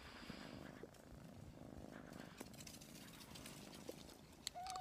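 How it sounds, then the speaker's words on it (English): Low, rumbling cat purr, close and steady but quiet, with a few soft clicks and rustles over it. "You can hear him purring."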